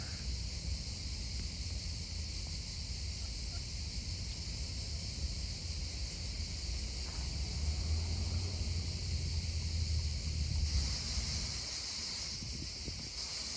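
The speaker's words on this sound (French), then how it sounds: "Mais ben, beaucoup de cigales qui chantent." Cicadas buzz steadily in a forest beside a lake, a dense continuous high drone that holds throughout with faint wind and rustling beneath, no talk over it.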